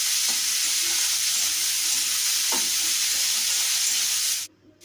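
Onions sizzle steadily in a pan with chili powder, salt and a little turmeric, a close, constant fry hiss broken by a couple of soft stirring scrapes before the sound cuts away near the end.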